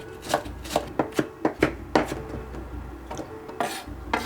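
A knife chops green onion on a board in a quick run of crisp, evenly spaced thuds, about nine strokes close up, ending with a few scraping sounds.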